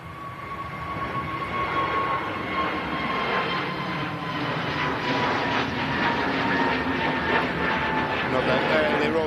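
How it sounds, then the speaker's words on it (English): EasyJet airliner taking off from Manchester Airport bound for Milan, a steady roaring jet engine rumble that swells slightly as it climbs, fairly loud and continuous, with people talking over it. "Early rotation there, EasyJet off to Milan."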